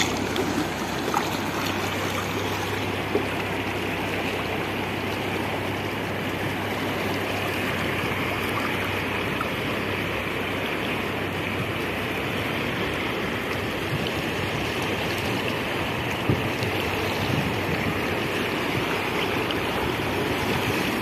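The Yamuna river, swollen by monsoon rain, flows in a loud, steady rushing roar of turbulent water that stays constant and close throughout, with no talk.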